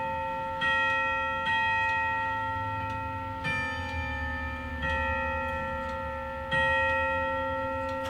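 A grandfather clock's chime hammers strike its metal chime rods, ringing out single sustained bell-like tones at spaced intervals, each note decaying slowly into the next, loud and close with no voices.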